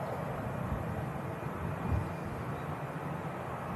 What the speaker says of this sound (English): Like a Falcon just touched down.